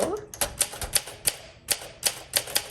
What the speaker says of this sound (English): And now let's do some typing.